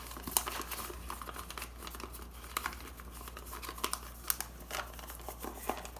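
Newspaper crinkles and rustles as it is folded and pressed into a seedling pot, with quick, close paper crackles and soft creases coming in irregular bursts, no voices.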